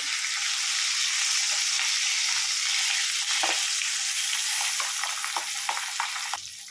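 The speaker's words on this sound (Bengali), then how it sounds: "একইভাবে মাছ বাকিগুলোকে ভেজে নেব।" Pabda fish frying in a pan of hot oil gives a steady, loud sizzle throughout, with a few brief stirring or turning scrapes near the end.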